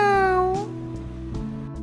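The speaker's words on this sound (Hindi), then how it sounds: "ये है बिल्ली बहन।" A single drawn-out cat meow, loud and close, falling in pitch before fading into soft background tones.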